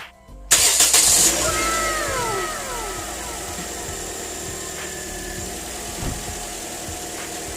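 A 2015 Toyota Corolla Altis 1.6G with a nearly dead battery cranks and catches after a battery boost, its starter whine sweeping upward before the engine settles into a steady, close idle.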